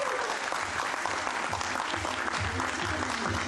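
Steady, dense applause from an audience at a ceremony honouring a bronze-medal athlete, a continuous close wash of clapping hands lasting the whole stretch.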